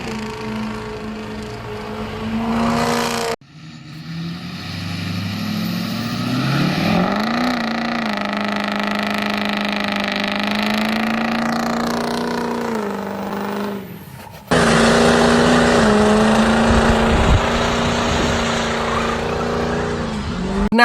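A Ford diesel pickup truck engine drones and revs through several gear changes, rising and falling in pitch, with a sudden louder burst of driving noise later on.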